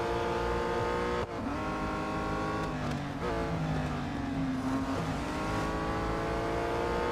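Race car engines roar continuously in Real Racing 3, a steady loud drone with shifting revs and gear changes as several cars run close together on track.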